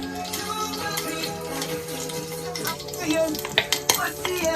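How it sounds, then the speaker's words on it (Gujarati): Tempering for sambar sizzles in hot oil in a pan, a steady frying hiss with stirring scrapes and sharp clinks of a spoon against the pot toward the end, over faint tonal background sound. "વઘાર હાલી રહ્યો છે"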